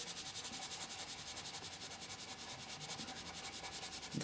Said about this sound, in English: Atmosphere will be created by rubbing, as we've done here